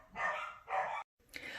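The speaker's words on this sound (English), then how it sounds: "I needed to just let the dogs bark it out." Dogs barking indoors in two loud, sustained barks and then a third, with a short silent gap before the last one.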